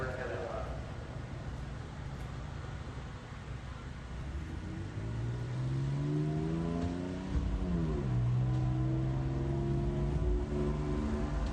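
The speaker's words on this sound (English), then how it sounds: "the daily Florida mods coming on track" Modified race cars roll onto Lee USA Speedway, engines revving and rising in pitch as they pass at moderate distance under steady crowd and announcer talk.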